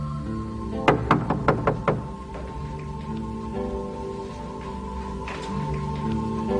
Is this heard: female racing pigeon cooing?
no